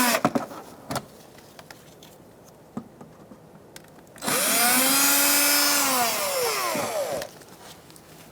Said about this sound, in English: Using a Phillips head bit on my drill,